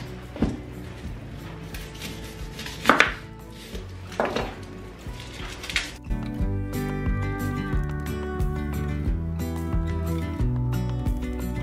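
A red onion chopped with a knife on a board, several sharp close strikes in the first half, then quieter taps under a steady background of melodic music.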